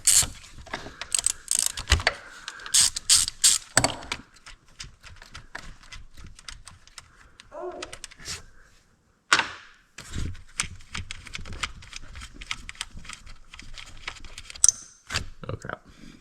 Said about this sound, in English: We're going to take the 2 bolts out, and we'll see how that goes